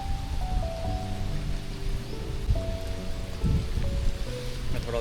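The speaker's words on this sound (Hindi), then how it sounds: "भीग रहा हूँ, बारिश हो रही है" Heavy rain falls steadily around a hilltop fort beside forest, a dense, even patter with an undertone of low tonal hum throughout.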